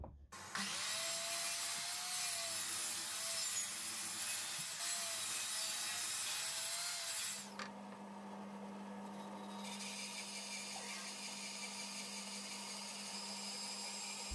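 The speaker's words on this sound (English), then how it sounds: "I'm using a bandsaw to create additional support for some of the cleats." A bandsaw cuts 18mm birch plywood for French cleats in a workshop, giving a steady rasping, buzzing cut for several seconds, then the blade stops and a lower motor hum and hiss continue, with no talking.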